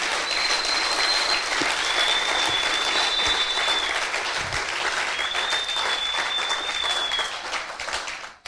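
A church congregation applauding steadily and loudly, a dense wash of clapping that fills the space with a few high whistles rising above it, and no talking.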